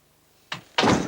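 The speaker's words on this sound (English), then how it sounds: "Hey, Joy, shut the door." A door is pushed shut indoors, with a short thump followed by a louder, fuller closing thud a moment later.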